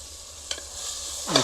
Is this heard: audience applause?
no